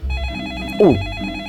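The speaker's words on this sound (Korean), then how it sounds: "지금 1795년에서 전화가 걸려왔어요" A telephone rings in a short burst of bright electronic tones, close and clear, with a brief swooping sound partway through.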